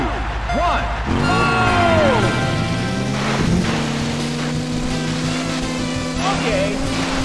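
Jet ski engines in the Nintendo 64 racing game Wave Race 64 whine and rev at the race start, a sustained buzzing drone with pitch sweeps and a rapid pulsing throttle, joined by a game announcer's voice.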